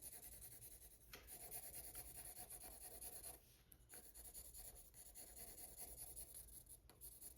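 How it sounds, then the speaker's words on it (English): Graphite pencil shading on paper with light, even pressure, a steady close soft rasping rub that continues with brief pauses, at about one and four seconds. "So when we shade, you can lay your pencil down"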